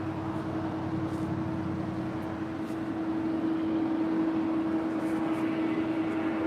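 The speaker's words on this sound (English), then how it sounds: "This is United 667 coming in from Washington Dulles on a 777-200ER." A United Boeing 777-200ER arriving at LAX from Washington Dulles gives a steady, fairly distant jet roar with a constant tonal whine and no nearby voices.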